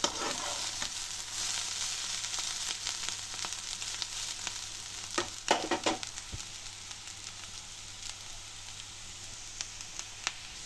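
Potato and beans vegetable fry sizzles softly in a covered pan over low heat, a steady quiet crackle broken by scattered small pops and a few utensil scrapes and stirs.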